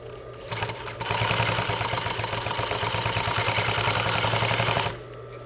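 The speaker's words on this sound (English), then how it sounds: "Start sewing and back stitch" Home sewing machine stitching a French seam with back stitching, a steady rapid mechanical whir and needle clatter running for about four seconds, starting and stopping abruptly.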